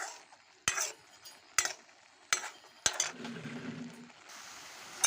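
Wet greens in a pan being stirred to cook off the water, with several sharp utensil clinks against the pan, scraping, and a soft low sizzle building midway; no talking.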